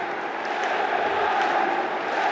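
Football stadium crowd keeping up a steady, broad roar of cheering and chanting that stays at an even level throughout, with no single voice standing out.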